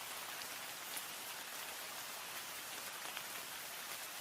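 Steady rain falling on a rainy night, a dense, even hiss of drops pattering on surfaces throughout, soft and continuous with no voices.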